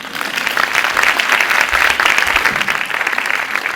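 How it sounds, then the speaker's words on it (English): A crowd applauding steadily for several seconds at a children's book award ceremony, dense and even clapping with no pauses. "You may now clap."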